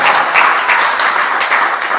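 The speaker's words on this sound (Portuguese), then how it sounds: "Dê um aplauso ao Senhor Jesus bem forte nesse momento." A church congregation claps loudly during a service, producing a dense, continuous roar of applause close up with no voices over it.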